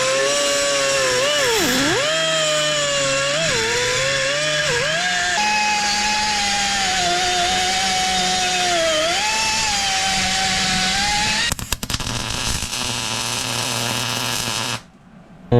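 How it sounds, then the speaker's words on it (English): A die grinder smoothing the ends of metal brackets whines loudly and continuously, its pitch wavering under load, briefly stuttering near the end before cutting off. "Now we'll just clean these ends up with a die grinder."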